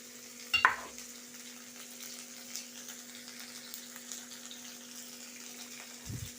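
Onion fries in a pan, a low steady sizzle with a sharp clatter of a utensil near the start and light stirring scrapes throughout, fairly quiet.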